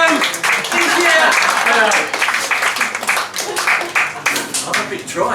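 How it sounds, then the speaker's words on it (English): Audience applause for a politician's introduction at a comedy event, dense clapping filling the room loudly for about two seconds, then fading into scattered claps with cheering and voices mixed in. "if you'd like to just give us a round of applause for Michael Gove"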